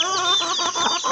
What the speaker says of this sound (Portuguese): Aqui tem um viveiro que tem pintinhos com uma semana.